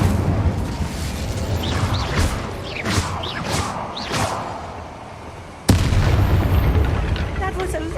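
Booming fiery Incendio spell blasts in Hogwarts Legacy, several heavy bursts rolling over a rumbling battle bed, then a sharp loud impact near the end, with a voice heard at times.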